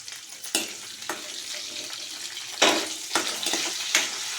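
Curry leaves and spices hit hot oil for a tomato dal, bursting into sharp, crackling sizzles in several loud spurts between quieter frying hiss, close by and with no talking.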